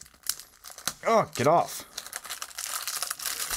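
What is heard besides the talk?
peeling tape off a puzzle cube box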